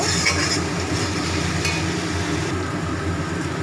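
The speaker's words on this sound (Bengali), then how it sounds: "মশলা থেকে তেল ছেড়ে গেছে এবারে জল দিচ্ছি" Hot water hits sizzling masala in oil in a pan, producing a loud, steady, continuous hiss and sizzle with bubbling throughout, close by and without any voice.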